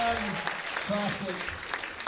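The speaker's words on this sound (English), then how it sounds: "Come on, big round of applause one more time" Clapping from the audience at a church kids' nativity, steady and moderately loud, with a voice talking over it and some tonal sounds in the background.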